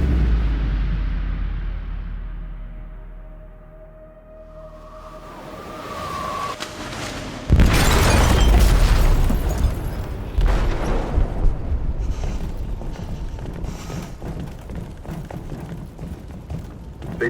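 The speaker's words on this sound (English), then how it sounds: "They detonated an explosive in the hold" An explosive detonated in a ship's hold in the video game Detroit: Become Human: low rumbling gives way to a sudden loud, close blast, then a sustained crashing roar with scattered debris impacts.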